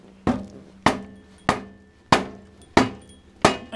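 Six sharp metallic hammer blows land about every two-thirds of a second, near and loud, each ringing briefly as a Harley muffler is driven onto the exhaust of a Yamaha Royal Star Venture motorcycle.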